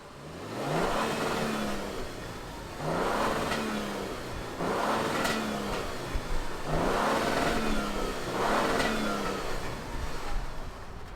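A 2022 Toyota Tundra 1794 Edition pickup engine revs repeatedly in bursts, rising and falling about every two seconds, loud and close with a steady idle between pulls.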